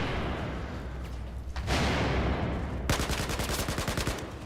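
Battlefield 4 gunfire, a burst of broadband blasts near the middle followed by a dense, rapid run of automatic shots, loud and close, over steady background game noise.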